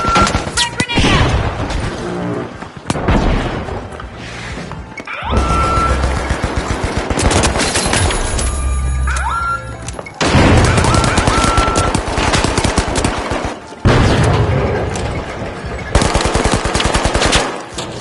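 Frag grenade blasts and heavy gunfire in the game show shooter The Finals: loud, dense bursts of automatic fire and booming thumps fill the whole stretch, with brief gaps, and voice callouts mixed in.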